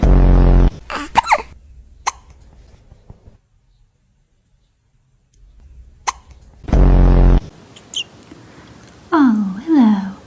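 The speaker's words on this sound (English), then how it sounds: "Have you got hiccups?" A cat hiccups several times in short, sharp, close bursts, separated by a long quiet stretch, with a person talking softly at the start and end.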